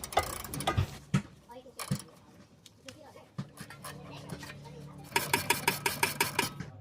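A 17 mm open-end wrench loosening a nut at the rear of a tie-rod assembly on a right-hand-drive Mazda RX-7, giving clicks, scrapes and metallic ratcheting taps. It ends in a rapid run of sharp clacks, with some background noise.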